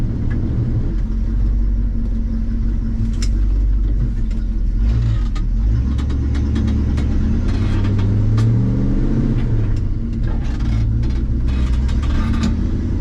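A 1974 Ford Dentside truck with a 390 FE big block that runs really badly rumbles loudly as it rolls into acceleration in second gear, its deep, rough engine note rising and surging with some roadside clatter.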